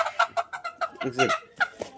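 Small young chickens kept as pets cluck in a rapid, uneven series of short calls, close by and fairly loud, with a few longer squawks mixed in.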